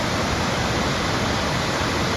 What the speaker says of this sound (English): there's the largest waterfall here. Manabiju Falls.